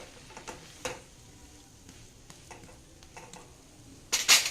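Milk-soaked bread fries quietly in a pan, a low sizzle with scattered soft taps as it is flipped, ending in a few sharper, louder clatters from the pan.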